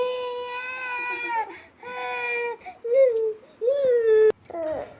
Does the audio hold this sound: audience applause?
no